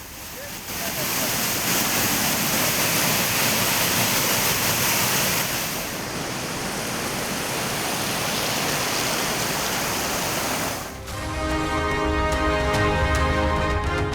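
Floodwater from a forest torrent crashes down Agathiyar waterfall in a loud, unbroken roar of falling water, close and dense throughout; a brief dip comes near the end as a tonal sound joins the rush.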